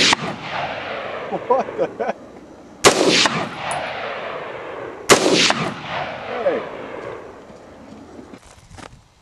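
Gunshots from a Bushmaster AR15 rifle fired outdoors in a desert: three sharp, loud cracks a few seconds apart, each with a long echoing decay, with voices talking between shots.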